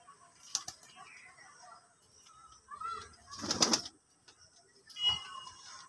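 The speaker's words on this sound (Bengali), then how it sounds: "খুব সুন্দর পায়রা পেয়ারটা।" Andhra pigeons in a loft give soft, intermittent coos and brief wing flutters, with a louder burst of flapping midway and another near the end, over a quiet background.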